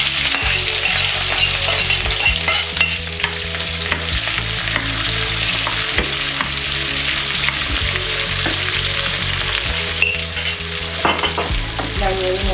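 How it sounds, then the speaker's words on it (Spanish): Onion and garlic fry in a pan with oil, giving a loud, steady sizzle throughout. Frequent scraping stirs and light utensil knocks against the pan come at a roughly regular rhythm. "vamos a pochar la cebolla y el ajo"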